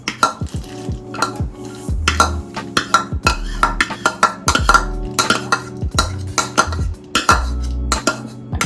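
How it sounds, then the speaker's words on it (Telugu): Ghee-fried dry fruits tipped into a pot of sheer khurma, with repeated clinks and scrapes of a metal spoon against the vessel and a few low thuds, close and fairly loud, no talking. "ఆ డ్రై ఫ్రూట్స్ ఏదైతే మనం వేయించుకున్నామో దాన్ని వేస్తున్నాను"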